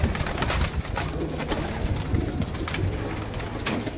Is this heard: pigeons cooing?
yes